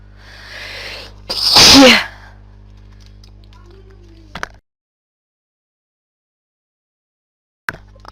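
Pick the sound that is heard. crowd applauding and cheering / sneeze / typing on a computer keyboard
sneeze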